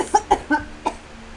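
Four short, sharp coughs after smoking shisha, spaced about a fifth of a second apart, close and fairly loud, then quiet.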